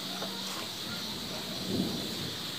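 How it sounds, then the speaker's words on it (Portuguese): Steady rain falling outdoors as a dense, continuous hiss at moderate level, with a faint low rumble partway through. "Uma chuvinha tão boa, gente, ainda está chovendo."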